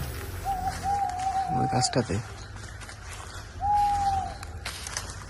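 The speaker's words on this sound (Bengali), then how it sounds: "ওই উপর থেকে পেঁচা ডাকছে" An owl hoots from a tree overhead in a forest near a crematorium, giving two long, steady calls a couple of seconds apart, with people talking quietly underneath.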